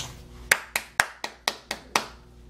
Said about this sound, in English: I think it's good to clap for yourself.